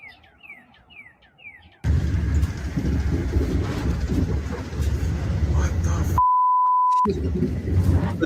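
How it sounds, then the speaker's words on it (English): A train rumbles and clatters through a station, loud and steady. Descending chirping beeps come before it, and a long single tone sounds near the end. "The train station."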